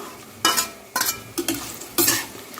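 Carrot pieces and peas fry in oil for veg pulao under a constant sizzle, with four distinct scraping stirs of a spatula against the pan, spaced about half a second apart.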